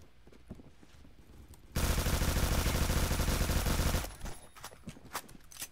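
A Honey Badger rifle set to fully automatic in a multiplayer shooter fires one loud, continuous burst lasting about two seconds, framed by quieter scattered shots and game sounds before and after.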